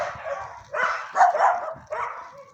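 A dog lets out a few short yelping barks in quick bursts, close by in fresh snow, with brief pauses between them.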